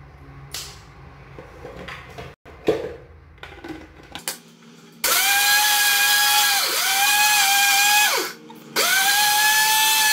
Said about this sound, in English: And to do that, I'm going to use my blender.